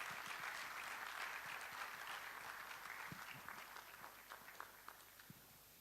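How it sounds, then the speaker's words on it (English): An audience at a physicians' annual general and scientific meeting in Ghana claps in a dense round of applause. It sounds fairly distant and gradually thins out toward the end. "A round of applause,"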